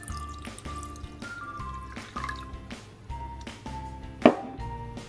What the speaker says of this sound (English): Once you fill it up, you have to pour some water in again.